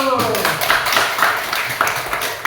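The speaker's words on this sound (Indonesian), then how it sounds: "mari bertepuk tangan bersama-sama" A group of children in a classroom clap their hands together, a quick rapid patter of many small claps mixed with voices talking over it.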